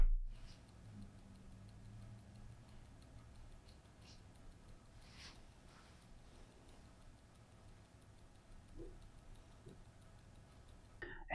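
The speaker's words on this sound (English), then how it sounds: "Let's hear the ticking sound of the watch." A mechanical wristwatch with a double balance ticks close up, a faint, fast, even run of tiny clicks over quiet room hiss, with a few soft handling noises.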